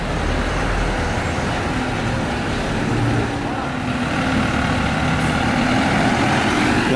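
A medium double-decker bus reverses into a parking spot, its engine rumbling loudly and steadily with low idling drone and surrounding traffic noise, close by.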